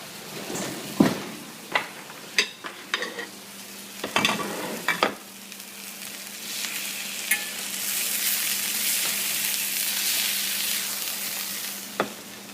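Steak frying in a pan in a smoky home kitchen, several sharp clatters and thumps of handling early on, then a bright, steady sizzle that grows and holds close.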